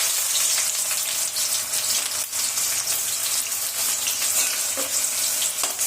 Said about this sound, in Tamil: நாம் நறுக்கி வச்சிருக்கிற வெங்காயத்தை அதில் போட்டுக்கலாம்.